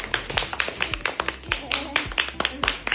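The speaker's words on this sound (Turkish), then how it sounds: "Beni alkışlayın şimdi de" A group of children in a classroom clap together in quick, uneven bursts. The claps are close and sharp, and voices can be heard among them.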